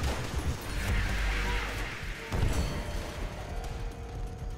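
Gunfire in Call of Duty: World at War during a co-op match, a dense stretch of shots and impacts running throughout at steady loudness, with voices talking over it.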